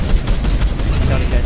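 Rapid gunfire spraying in a Fortnite match, a dense continuous rattle of shots filling the brief moment, close and loud.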